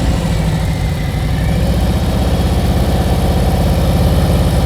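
A motorcycle engine idles steadily and close up for the whole stretch, a low even rumble with a fast regular pulse, held on the brake during a slow-speed riding skills practice session in California.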